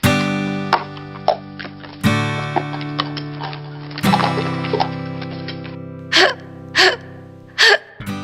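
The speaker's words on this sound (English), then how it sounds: "Nah, just a hiccup." A cartoon character hiccups three times in quick, sharp bursts near the end, after sustained, ringing musical notes struck every couple of seconds.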